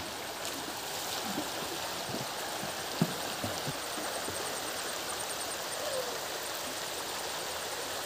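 A water stream rushes along a jungle trail near Mumbai, a constant broad hiss of flowing water with a few faint knocks and small splashes.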